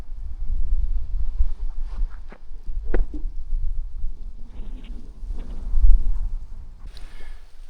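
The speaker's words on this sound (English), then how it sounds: "Nice and windy." Wind gusts across a lake on a solo canoe trip in the Boundary Waters, a low rumbling buffet against the microphone with fluctuating surges, alone and fairly close.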